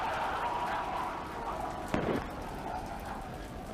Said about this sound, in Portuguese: We have liftoff. Vehicle pitching downrange.